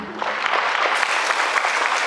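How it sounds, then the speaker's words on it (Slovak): Steady, dense applause from the audience at a school ball for teachers, parents and friends of the school in Dolná Strehová, 2017, honouring two child performers. It is loud and continuous throughout, with no voices on top. "poprosím jeden velikánsky potlesk pre naše dve malé detské hviezdy"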